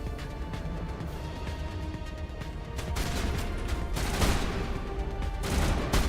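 Gunfire in the video game Mass Effect, a continuous rattle of shots and crashes that grows louder and denser midway, with bursts of impacts near the end and no talk.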